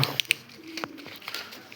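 Pigeons coo softly nearby with a few short chirps, over a faint background.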